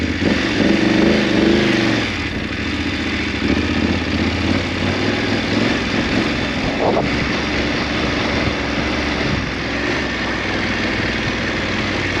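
A BMW R 1250 GS motorcycle labours up a rough, rocky trail at the Ibex Mine in Death Valley, its engine a loud, steady close-up drone with slight throttle surges throughout, no voices.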